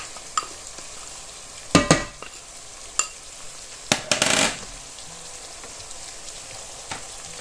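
Chopped parsley and leeks tipped into a hot pan and stirred, with a few loud sizzling bursts and utensil scrapes over a quiet background frying crackle.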